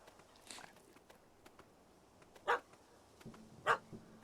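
A dog in the video game The Witcher 3 barks twice, sharp and fairly faint, about a second apart, with light footsteps and quiet ambience around.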